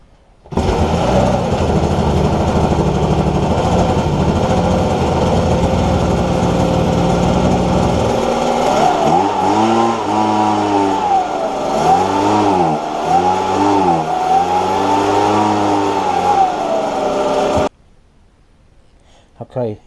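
A Ryobi leaf blower's small two-stroke engine runs loud and steady, then its pitch repeatedly sags and surges as it bogs down under choke, before cutting out abruptly near the end.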